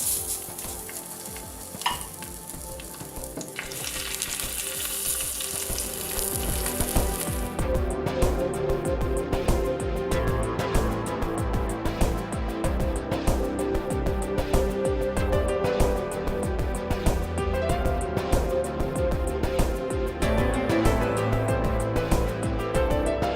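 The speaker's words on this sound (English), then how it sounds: "Let's put some olive oil in the pan, and we're going to sear this meat," Lamb shanks searing in olive oil in a deep pan, a steady loud sizzle and crackle that runs on continuously, with a brief burst of hissing at the start.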